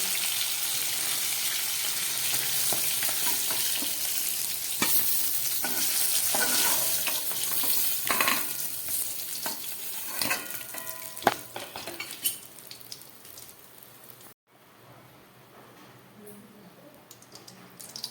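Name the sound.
fish frying and sizzling in oil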